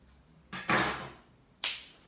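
Solid cake dowels snapped by hand, giving two sharp cracks about a second apart, the second crisper and brighter, close by with no talk.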